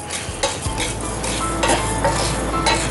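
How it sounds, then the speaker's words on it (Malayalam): Spices dry-roasting without oil scrape and rattle in a pan as a spoon stirs them, with repeated metallic clinks over a steady rustling hiss. "എണ്ണയൊന്നും ഇല്ലാണ്ട് ഇങ്ങനെ ഇളക്കി മൂപ്പിക്കും."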